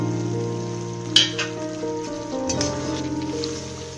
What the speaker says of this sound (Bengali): দেখুন বন্ধুরা, গ্রেভিটা ফুটতে শুরু করেছে। এখন আমি ভাজা চিংড়ি মাছগুলো এতে দিয়ে দিলাম।